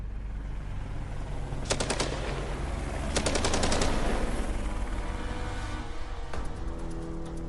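Rapid bursts of automatic gunfire from Iraqi soldiers firing at a Black Hawk UH-60 in a war setting, several rattling volleys at a distance over a steady rumbling engine drone.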